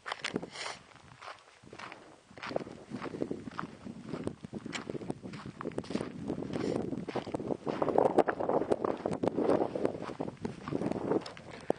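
Strong wind on a mountain buffets the microphone in a steady low rush, while crunching footsteps on rough ground fall close by throughout.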